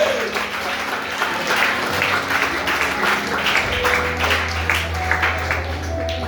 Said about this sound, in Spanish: Den un aplauso fuerte, fuerte, fuerte,